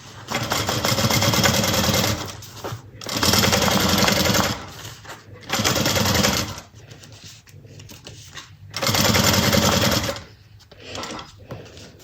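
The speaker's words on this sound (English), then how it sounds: "and we're going to top stitch" A sewing machine top stitching the lining seam of a bucket bag runs in about five loud, steady whirring bursts, each a second or two long, separated by short quiet pauses with no talking.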